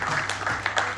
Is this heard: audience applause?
yes